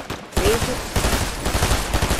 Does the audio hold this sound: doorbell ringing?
no